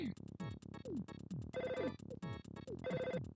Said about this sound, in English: Gotta answer the phone.